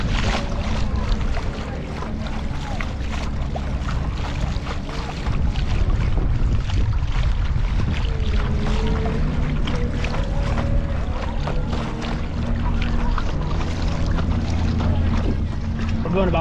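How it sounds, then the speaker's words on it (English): Stiff breeze roars across open water while riding an electric stand-up paddleboard with a Bixpy K1 outboard motor near a jetty and beach, a constant loud wind rush with splashing and a voice talking over it. "It's a little windy. There's just stiff breeze."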